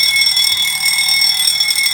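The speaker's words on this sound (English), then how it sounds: "when either of the doors are open, the alarm should sound." A door alarm driven by a PLC ladder-logic circuit sounds continuously, a loud, shrill electronic tone steady for the whole stretch with no talking.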